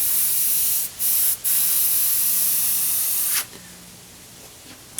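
An airbrush sprays a second coat of black paint onto sheet metal with a loud, close, continuous hiss that breaks off twice briefly and then stops, leaving faint background.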